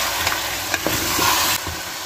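Ginger and green chilies frying with tomatoes in a pan, a loud, close sizzle with several sharp scrapes and taps of a spoon stirring, no talking.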